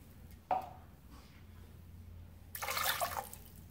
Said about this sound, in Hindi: इसमें पानी शामिल करेंगे 2 कप